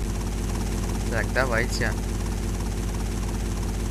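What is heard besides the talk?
helicopter with magnet flying in video game GTA Vice City Stories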